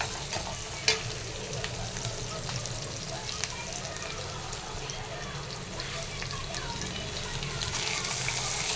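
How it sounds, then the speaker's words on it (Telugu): Onions with curry leaves fry in a pan for egg pulusu, giving a steady, fairly loud sizzle with occasional stirring clatter and a sharp clink near the start; a voice speaks faintly underneath. "కరివేపాకు వేసి కరివేపాకు కూడా ఫ్రై అవ్వాలి"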